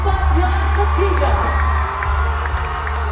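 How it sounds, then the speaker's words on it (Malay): Audience cheering and clapping for the third place winner at a state-level Buvazoi Tavantang event, a short loud burst of crowd whoops and applause under a steady low hum. "sekali lagi kita berikan tepukan kepada pemenang tempat yang ketiga"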